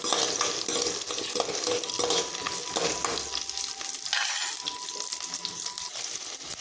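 Chopped garlic hitting hot oil in a pan while dry fish kulambu is cooked, a steady bright sizzle running throughout with occasional stirring clatter, close and moderately loud with no talking.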